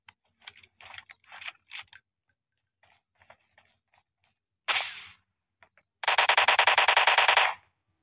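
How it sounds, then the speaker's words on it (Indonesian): Gunfire in the mobile battle game PUBG: a few faint scattered shots, then one sharp single report, and finally a loud, rapid automatic burst lasting over a second. "Kita coba nembak ya, paling ngelag sedikit sih."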